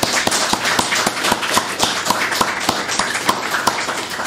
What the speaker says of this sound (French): Je vous propose de l'applaudir pour cette contribution et surtout pour son livre.